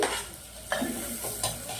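Tomatoes sizzle in a hot pan while a utensil scrapes and stirs a few times, a soft, steady frying hiss throughout.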